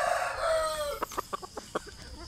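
Young gamefowl stag roosters, about six months old, crowing in a yard: a drawn-out crow up front, then a string of short clucking and crowing bursts from several birds, fairly close and clear.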